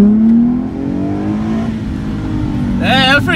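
A 2015 Nissan 370Z at full throttle after the clutch is released, its engine note droning loud and close before a voice cuts in near the end.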